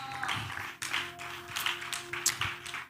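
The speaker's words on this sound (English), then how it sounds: "Clap your hands for the Lord." A church congregation claps hands during a service, with several bursts of sharp claps in an irregular rhythm, moderately close and fairly faint.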